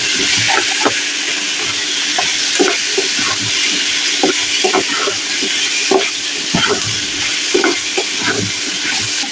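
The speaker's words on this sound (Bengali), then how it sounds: "নেড়ে চেড়ে ভেজে নেব।" Green chillies, onion, garlic paste and cumin paste fry in a pan while a spatula stirs them, with loud continuous sizzling broken by repeated scraping strokes close at hand.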